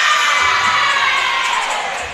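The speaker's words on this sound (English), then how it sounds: "Crowd definitely having a good time here tonight." A senior-night high school boys basketball crowd cheers and shouts during a timeout, with children's high voices prominent; a loud, dense, sustained roar that fades slightly toward the end.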